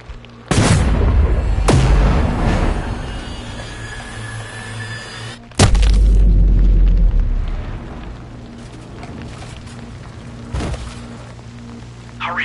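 Sniper rifle shots in the video game Sniper Ghost Warrior 3: two sharp, loud cracks, each followed by a heavy booming tail, with fainter impacts and a low hum between them.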